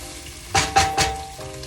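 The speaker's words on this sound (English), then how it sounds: "Get that stirred around." Better Than Bouillon beef concentrate stirred into a braising pot for short ribs, three quick scraping sweeps of a utensil over a soft sizzle, close up.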